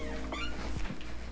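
A pet dog whimpering softly at bedtime indoors, a few brief high whines and yips close by against a quiet background.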